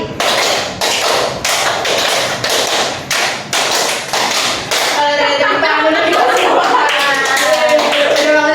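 Hands clap in sets during a classroom counting and clapping game, loud sharp claps grouped in rhythmic bursts, then children's voices chatter and call out over the room.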